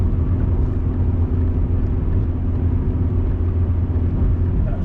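A 1995 BMW E36 318i drives steadily on snow, its engine and road rumble a constant, loud, close drone with no talking.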